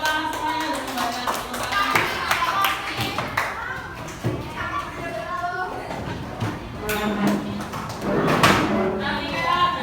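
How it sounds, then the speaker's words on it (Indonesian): Children in a primary school classroom clap together in scattered, uneven bursts, with a voice and other classroom chatter mixed in around the clapping. "tepuk tangan semuanya"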